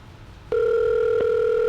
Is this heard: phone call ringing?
yes